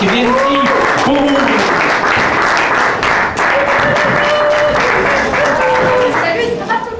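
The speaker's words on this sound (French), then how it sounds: "Une bonne main d'applaudissements chaleureuse à ces deux artistes qui viennent ici pour vous." Warm applause from a cabaret audience for an accordion and guitar duo, mixed with voices and sung or spoken tones over the clapping, moderately loud and continuous.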